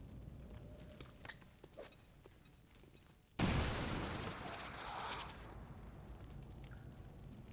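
A grenade goes off in XCOM 2: War of the Chosen with a sudden loud blast partway through, followed by a rumbling, crackling decay. Before it come quiet game sounds and scattered clicks.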